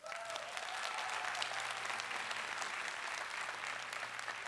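A large convention audience at a Star Trek 50th Anniversary panel breaks into sustained applause, dense steady clapping filling the hall evenly from start to finish with no clear voices above it.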